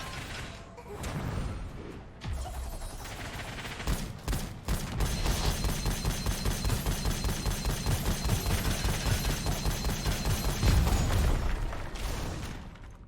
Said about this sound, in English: That weapon's supposed to be a shotgun, not a laser.